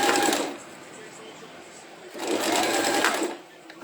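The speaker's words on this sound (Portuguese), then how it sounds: "Então, vou costurando, apoiando com a mão, tudo certinho" A sewing machine runs in two close, loud bursts of rapid stitching through fabric, with a brief quieter pause between them.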